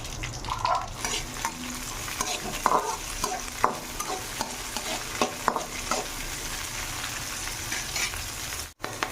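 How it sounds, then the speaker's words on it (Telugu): Sweet corn kernels roast in about two tablespoons of oil in a pan, a steady sizzle broken by frequent spoon-stirring scrapes and clinks, close and moderately loud, with no speech. "దాంట్లో మనం ఈ కార్న్స్ కొద్దిగా రోస్ట్ చేసుకోవాలండి"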